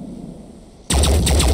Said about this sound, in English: Not the best place to put my sniper. Preparing to fire.